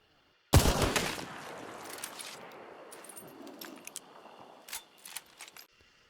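A sniper rifle fires a single sharp, loud shot in Hunt: Showdown, its crack rolling into a long fading echo, followed by faint scattered clinks and distant reports.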